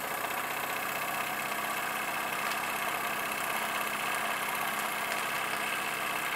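Small model steam engine running steadily, a continuous mechanical whir with light rhythmic knocking that holds at an even level throughout, close up and alone without talk.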